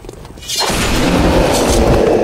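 A heavy booming blast from the XCOM 2: War of the Chosen alien-fighting game bursts in after a quiet moment and rolls on as a loud, sustained roar of debris and rumble.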